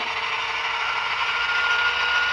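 A model locomotive's sound decoder gives a steady, loud diesel prime-mover drone, humming continuously without pause at raised revs.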